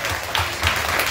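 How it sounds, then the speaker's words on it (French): Audience applauding at a gathering, a dense, steady patter of many hands clapping together for a brief stretch with no pause. "Allez-y, applaudissez pour vous-même."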